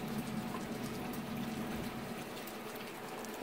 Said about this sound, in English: I will be sautéing the onions for about 20 minutes until they are very soft and slightly golden